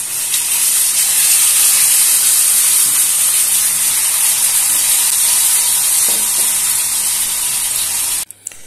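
Water splashed into a hot frying pan holding fried garlic and hot chili peppers erupts in a loud, dense, steady steaming hiss and sizzle that holds for about eight seconds before cutting off abruptly with a few clicks.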